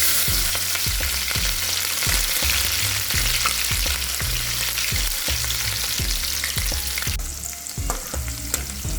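Green chillies fry in hot oil with mustard seeds and cumin in a kadai, a steady close sizzle punctuated by rhythmic spatula strokes against the pan, no talk.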